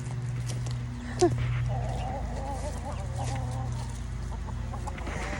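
Roosters crow and cluck over a steady low hum, the calls rising and wavering at a middle distance.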